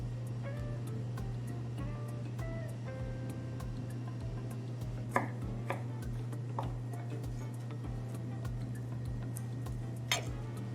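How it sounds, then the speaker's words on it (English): Knife cutting mango into cubes on a board: a series of faint, irregular taps and clicks, a few sharper knocks standing out, over a steady low background hum, with no talking. "And then we finalize by cutting our cubes."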